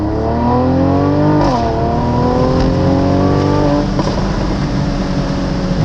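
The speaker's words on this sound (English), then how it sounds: "just listen to that exhaust, man." A 2017 Mercedes-AMG C43 Cabriolet's twin-turbo V6 exhaust revs loud and close, the engine note rising and dropping through repeated pulls with a strong, continuous rasp and no talking over it.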